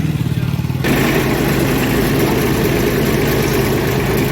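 A VST Shakti MT 180 tractor with a hydraulic fault runs in a garage. Its engine chugs steadily and close up, then jumps to a louder, fuller roar after about a second and holds there.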